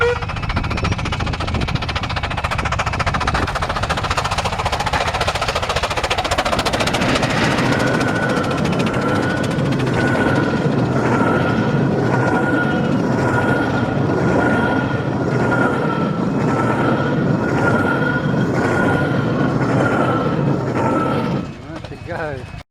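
A model railway train runs steadily along the track in a loft layout near Dover, a loud, continuous rumbling clatter with rapid rhythmic clicking that holds throughout and eases slightly at the very end.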